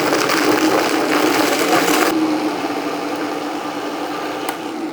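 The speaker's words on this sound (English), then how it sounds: "we're going to just blend this until it's completely smooth." A blender whirs loudly and steadily as it purees a thick peanut chipotle salsa, its motor pitch dropping slightly partway through as the mixture settles, with no talking.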